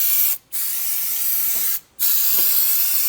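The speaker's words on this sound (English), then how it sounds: "And we'll give the tray a toot of fluid film," Two short bursts of aerosol Fluid Film rust protection sprayed onto the battery tray of a 1999 Intrepid, close hissing with a brief pause between them.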